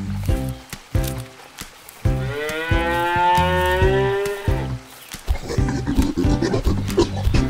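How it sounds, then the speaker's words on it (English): Cartoon cows with a calf give a long, loud, drawn-out moo in the middle, surrounded by rhythmic clattering hoof-like beats and other busy animated animal sounds. "The cows and the calf are grazing."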